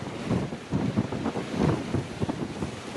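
Strong wind roars across the microphone on the deck of a sailboat rolling through the Exumas, a steady, close buffeting rush with gusty swells and no voices.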